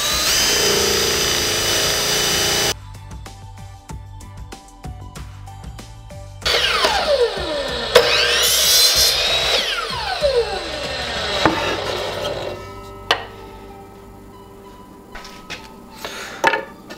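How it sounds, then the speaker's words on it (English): A power drill whirs loudly boring a 7/8-inch hole in wood, starting and stopping several times, with its pitch rising and falling as the bit bores in and eases off. "I'm just going to drill the 7/8 hole right here"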